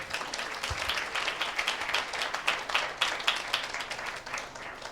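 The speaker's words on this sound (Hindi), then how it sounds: "एक जोरदार ताली देते हैं" Congregation at a church service applauding together, a dense, sustained burst of clapping from many hands at moderate distance, steady for several seconds without talk.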